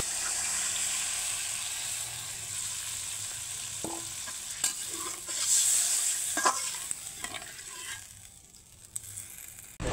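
Curry masala simmers with coconut milk in a pan, giving a continuous soft sizzle and bubbling with occasional clinks and stirring scrapes, close and alone without any talking.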